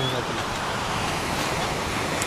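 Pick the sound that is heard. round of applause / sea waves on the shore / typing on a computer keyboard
sea waves on the shore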